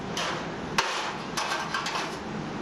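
A metal grate holder being set back onto a cooled grill, giving one sharp close metallic clank followed by a few lighter knocks and taps against steady background noise.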